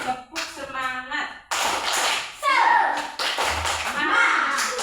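Schoolchildren in an Indonesian classroom perform a rhythmic spirit clap, quick bursts of sharp hand claps alternating with chanted children's voices and some shuffling, loud and close.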